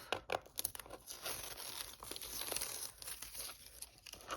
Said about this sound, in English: let's take the tape off